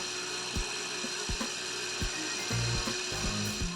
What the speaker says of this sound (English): I'll use a pump.